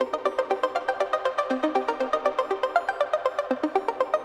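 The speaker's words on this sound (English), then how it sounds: "we'll have a look into the lead arp" A soloed lead arpeggio synth from a Serum preset, the main repeating element of a pop track: fast, even, bright plucked notes cycling in a steady pattern, close and alone.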